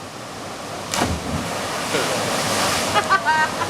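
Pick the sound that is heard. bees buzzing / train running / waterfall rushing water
waterfall rushing water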